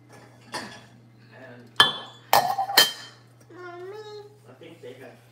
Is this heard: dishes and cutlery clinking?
yes